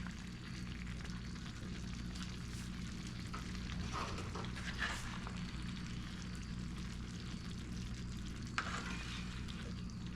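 Goose meat sizzles and fries with peppers in a pan for fajitas, a steady crackling hiss broken by a few scraping stirs and occasional clinks, without any speech.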